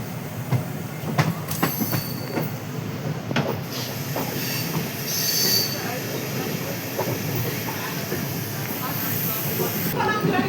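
A passenger train rolls along the rails with a continuous rumble, squealing wheels and brief rhythmic clacks, heard from inside with faint voices in the background.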